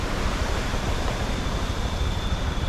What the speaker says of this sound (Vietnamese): Con suối to quý vị này.